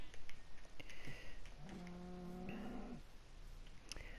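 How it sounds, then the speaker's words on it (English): A sheep in the video game Minecraft gives a single bleat midway, a short wavering baa that steps up in pitch near its end, over faint clicks and quiet background noise. "Oh, it's a sheep."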